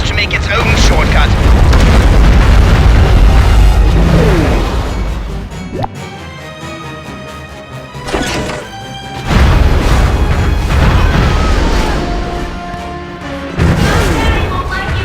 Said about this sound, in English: Big Willy can smash buildings to make its own shortcut.